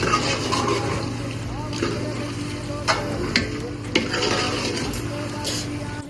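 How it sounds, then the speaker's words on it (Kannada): Mutton biryani masala frying in a pan for a Gowda-style biryani, a dense sizzle with a low steady hum beneath and a few sharp scrapes and taps of a utensil against the pan, close and fairly loud. "ಇವಾಗ ಇದನ್ನ ಒಂದು ಜಸ್ಟ್ 2 minutes ಫ್ರೈ ಮಾಡ್ಕೊಳ್ಳೋಣ"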